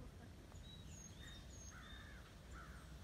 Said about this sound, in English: The crows are fond of you.